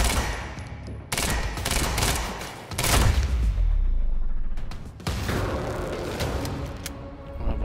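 Gunfire in the action game Quantum Break: loud, chaotic volleys of automatic shots and booming impacts, a heavy rumbling blast near the middle, then continued scattered firing.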